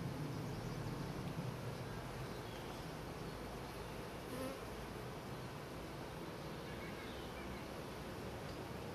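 Honeybees hum steadily around an open hive during an inspection of frames, a dense, continuous buzzing swarm sound at fairly low level with no speech.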